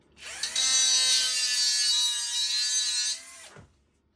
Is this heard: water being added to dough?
no